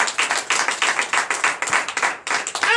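A congregation at a night deliverance and prophecy church service claps steadily in a fast, even rhythm, loud and close, with no voices over it.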